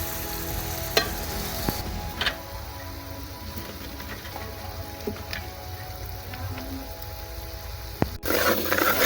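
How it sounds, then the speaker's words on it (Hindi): Tomato and masala frying in a pan for mooli paratha, giving a steady close sizzle with scattered crackles and small pops throughout, with no talking over it. "तो इसके मसाले को ऐसे थोड़ा सा पकने दें।"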